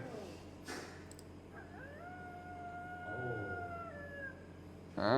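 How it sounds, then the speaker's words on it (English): Coyote howl played as a recording, a drawn-out wavering wild-dog cry rising and falling with layered tones over a few seconds, moderately loud above a background hiss. "This is a coyote, okay?"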